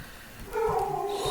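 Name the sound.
cat sound in Poke the Pig game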